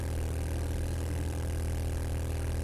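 A motorcycle engine in the video game 7 Days To Die runs steadily, a low, even mechanical drone with a constant hum and no talking.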